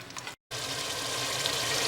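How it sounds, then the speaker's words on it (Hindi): Water is poured into cooking masala in a pan, giving a steady hissing, bubbling sizzle that follows a brief cut and continues loud and close with no talk. "हमने एक और बार पानी डाला था"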